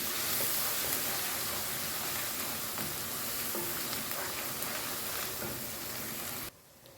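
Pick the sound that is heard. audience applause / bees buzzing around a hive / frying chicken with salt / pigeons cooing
frying chicken with salt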